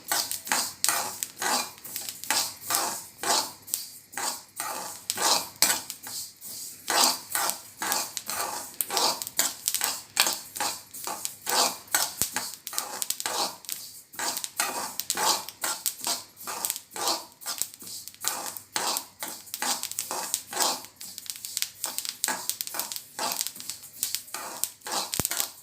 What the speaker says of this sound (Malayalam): നമ്മുടെ എള്ള് പതുക്കെ പൊട്ടി തുടങ്ങിയിട്ടുണ്ട്.